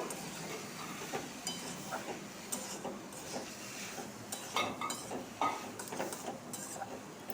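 Indian hog plum chutney being stirred with salt and turmeric in a pan, faint light scrapes and clinks of a utensil against metal over a quiet simmering hiss.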